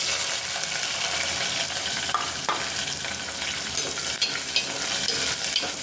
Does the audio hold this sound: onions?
yes